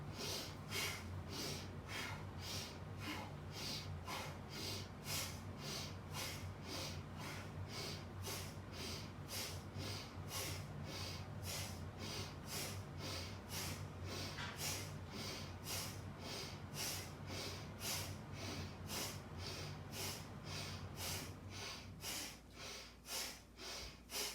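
Strong rhythmic breathing during a kundalini kriya exercise, fast forceful inhales and exhales through the nose repeating evenly for many cycles, close and steady with no talk.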